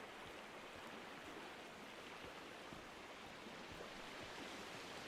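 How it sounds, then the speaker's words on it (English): A waterfall in the survival video game Sons of the Forest, a steady, full roaring rush of falling water that stays even and continuous throughout, with no voices over it. "this sounds like a waterfall"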